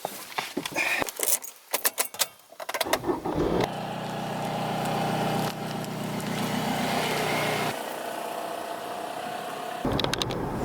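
Keys jangle and clatter in a car before the engine catches and settles into a steady idle, then a smooth running hum as the car pulls away, with more rattling near the end.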